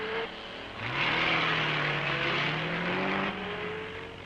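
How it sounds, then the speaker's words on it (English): A Cadillac race car in the 1954 Carrera Panamericana roars loudly, its engine note climbing as it accelerates and holding a strong, sustained drone before easing slightly. "Cadillac roars a challenge to Faulkner's Lincoln."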